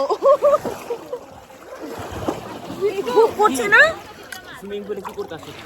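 Water splashes in a swimming pool as people play, with bursts of splashing at the start and middle under lively, close talking and excited voices throughout.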